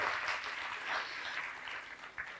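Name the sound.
audience applause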